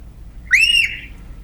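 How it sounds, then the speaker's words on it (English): A large Pacific coast shorebird gives a single loud, piercing whistled call, rising then holding briefly before trailing off, alone against quiet background. "That's a bird that sounds like it's in distress,"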